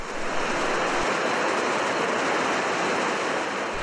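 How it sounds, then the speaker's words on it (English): Continuous roaring wash of beach surf blended with wind noise, dense and even throughout, loud and close with no voices. "How about the mixture of waves and wind on this beach?"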